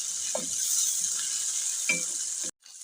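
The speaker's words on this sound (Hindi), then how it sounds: "अब इसके अंदर हम डालेंगे लहसुन अदरक का पेस्ट, और इसकी भुनाई कर लेंगे" Garlic ginger paste fries in a pan with a bright, steady sizzle, broken by a few soft stirring knocks and a light clink before the sound cuts off abruptly near the end.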